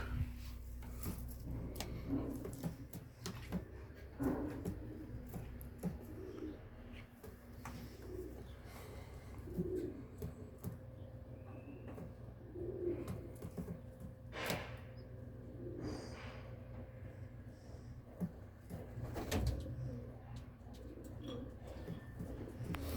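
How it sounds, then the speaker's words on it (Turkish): Arab carrier pigeon chicks in a coop give soft, intermittent coos and breathy sounds scattered through a steady low background hum, fairly quiet and close. "Şurada Arap yavru postalarımız var."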